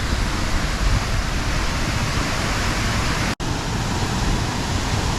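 The Nagae waterfall in Satsuma, Kagoshima splashes into its plunge pool as a loud, close, continuous roar of falling water, with one sharp momentary break partway through.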